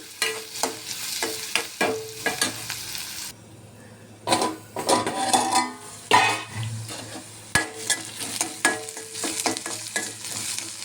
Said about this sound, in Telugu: ఇప్పుడు సిమ్లోని వేయించుకోవాలండి.